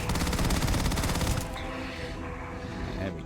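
Rapid automatic gunfire in the video game Starfield, a dense loud burst of shots for about a second and a half, then fading into softer game ambience with no talking.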